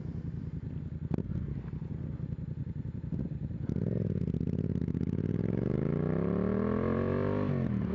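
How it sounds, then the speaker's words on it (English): A Yamaha MT-07 motorcycle engine is heard during a ride, with a steady mechanical drone that swells into a loud rising rev around the midpoint, its pitch climbing smoothly as the bike accelerates, with no voices. "that torque and the way you can feel the motor and every sort of revolution through the whole bike"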